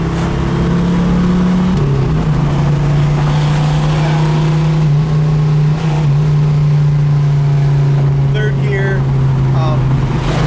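A loud, steady 1975 Trans Am engine drones close by, its pitch dropping briefly as it shifts gears, with a voice speaking over it.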